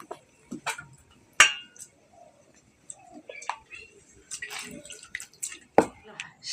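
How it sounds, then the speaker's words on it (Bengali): Cut water lily stems are washed in water and wrung out by hand, with scattered drips, splashes and small clinks in quick irregular bursts, near and fairly quiet, mixed with faint voice sounds. "ধুয়ে আমি জল থেকে তুলে নেব, নিগড়ে একটু জলটা চিপে ফেলে দেব।"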